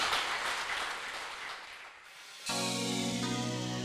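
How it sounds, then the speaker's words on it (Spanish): Applause for the Virgin Mary from a prayer-group congregation, a broad, diffuse clapping wash that fades and then gives way to a sustained musical tone. "Un aplauso a la Virgen María"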